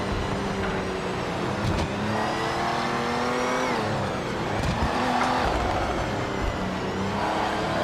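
Porsche race car in the racing game Project Motor Racing, engine note rising and falling under braking and acceleration, with a tire skid, loud and continuous throughout with no talk.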